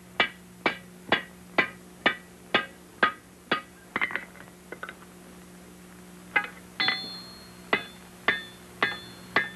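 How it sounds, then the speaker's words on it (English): Iron rifle barrel for a flintlock being forge-welded at the seam, a loud, close hammer ringing in regular blows with a brief irregular pause of lighter taps midway before the steady striking resumes. "You start welding the barrel in the middle and work toward the ends."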